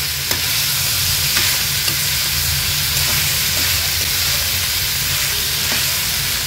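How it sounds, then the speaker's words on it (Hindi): Carrots and green peas with turmeric being stirred and sautéed on high flame in a pan for tava bhaji, a loud, steady sizzle with occasional scraping stir strokes. "व्यवस्थित त्याला आपण परतून घ्यायचं आहे हाय फ्लेमवर"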